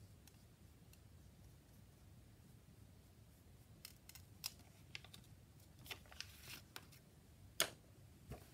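Scissors trim a small piece of paper or fabric while a ledger journal is being decorated. The snips come as faint, scattered clicks in a quiet room, growing more frequent toward the end.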